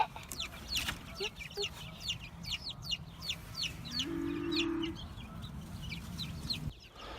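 A hen and her four small chicks outdoors, with rapid high cheeping from the chicks running throughout and a low, soft clucking from the hen mid-way, fairly quiet and close.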